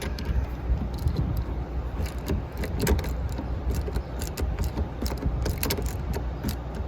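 Socket wrench loosening a 10 mm nut on a Pontiac G5 battery terminal, a quick run of close ratcheting clicks and metallic taps, fairly quiet with no talking.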